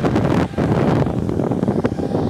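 A homemade bamboo air cooler fan blows strong air, producing a loud, constant rushing roar like wind against a microphone, with no talk.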